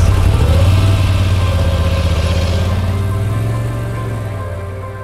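A 2021 Moto Guzzi V7 850 with an air-cooled transverse-mounted V-twin idles steadily up close, a loud, throbbing low rumble that slowly eases off in volume toward the end, with no talking over it.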